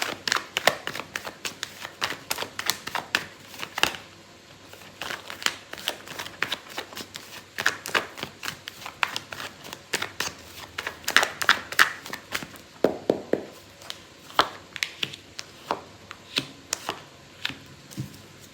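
Tarot cards shuffled by hand in quick, crisp riffling bursts with brief pauses between, close and fairly quiet, with no talking.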